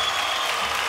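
An Indian Idol studio audience breaks into a brief, steady burst of loud applause.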